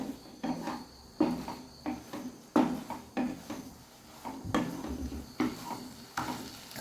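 Milk being stirred into a cooking pan, repeated scraping strokes of a spoon in a steady rhythm over a faint sizzle, close and fairly quiet.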